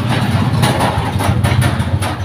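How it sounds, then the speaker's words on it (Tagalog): A motorcycle rolls past outside a small neighborhood sari-sari store in the evening, its engine a steady low rumble that stays fairly loud and close throughout without clear rise or fade. "Merong dumaan lang guys na motor."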